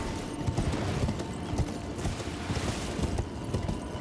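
Horse hooves clip-clop steadily while riding in the video game Elden Ring, a busy rhythmic trotting pattern set within a dense, noisy game soundscape.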